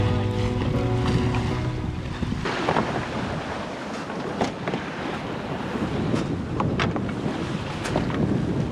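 Steady wind rush and water washing against a sailboat's hull under way, with a low engine-like hum fading early and scattered splashes and creaks throughout, continuous and fairly loud.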